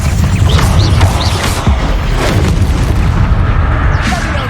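Bombarda spell blasts during a spider-fighting battle in Hogwarts Legacy, with loud booming explosions layered into a dense, continuous roar of combat effects and bursts.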